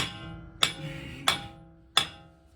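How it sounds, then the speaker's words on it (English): A hammer striking a Dodge Ram control arm during suspension work: three sharp metallic blows at an even pace, each with a brief ringing decay, close and clear with no talking. "Hit it with a hammer."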